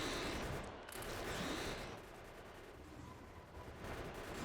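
Gun turrets in Factorio fire steadily at worms, a dense low-level rattle of game gunfire running throughout with no talking.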